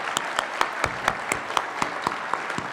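A small audience claps for students receiving science fair ribbons, giving a light, scattered round of individual claps at a moderate pace for a few seconds.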